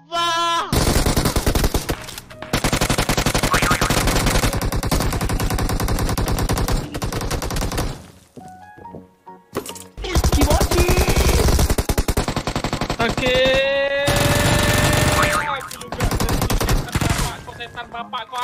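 Sustained automatic gunfire fills a shooter video game match, dense rapid bursts running almost nonstop with two brief lulls, and game effects mixed in among them.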